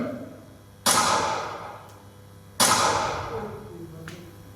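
Two sharp staged gunshot cracks from a stage performance, about two seconds apart, each followed by a decaying ring and faint echo, with distant voices and room noise between them.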